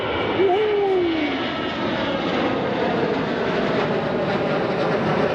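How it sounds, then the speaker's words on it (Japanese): A small airplane's engine drones steadily at a distance as it takes off from a Seattle airport, a rising whine fading into broad roar, with faint voices beneath. "あ、なんかちっちゃい飛行機が。 おお、今ちょうど離陸した。"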